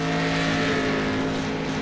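Race car engine roars continuously at high revs in a sim racing game at Donington, a loud, steady, harmonic drone filling the whole stretch with no talk.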